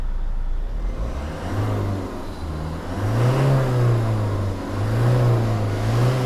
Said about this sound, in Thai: ลองฟังเสียงเครื่องยนต์หน่อย